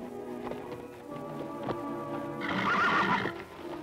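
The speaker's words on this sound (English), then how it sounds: "Is Fury your horse?" A horse in a 1955 western TV series, agitated after throwing its rider, lets out a loud, shrill whinny late on, over steady clip-clopping hooves close by.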